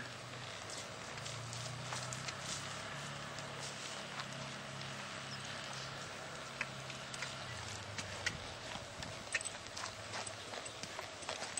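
A horse trots in a riding lesson, its hooves clip-clopping in a steady rhythm for the whole stretch, moderately close over a constant background hum, with a few faint voices.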